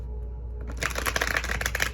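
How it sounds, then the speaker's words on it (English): Tarot deck being shuffled by hand: a quiet pause, then a rapid run of crisp, papery riffling and card flicks close up, with no talking. "Just want to give these a good shuffle"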